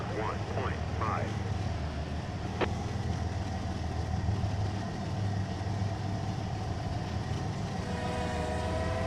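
A simulated AI-driven train in Trainz sounds its horn approaching a road crossing, a steady sustained blast over a low rumbling engine drone, with a faint distant sound in the background.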